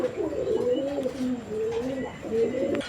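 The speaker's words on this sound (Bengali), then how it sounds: "আমরা এই মুহূর্তে দেখতে পাচ্ছি আরও একজোড়া কবুতরের কালেকশন" Pigeons at a bird market coo in low, rolling, repeated phrases, close and fairly loud, with faint background murmur.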